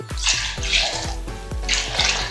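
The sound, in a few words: pouring remaining water into mint lemon juice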